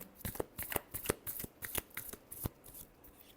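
Tarot cards being shuffled up close, a quick irregular run of crisp riffling flicks and slaps, soft and without talk.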